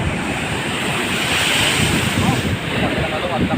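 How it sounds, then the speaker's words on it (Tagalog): Heavy surf crashes and rushes steadily near Sulangan lighthouse, a loud, continuous roar of big waves with wind noise across the microphone. "Laki ng alon, laki."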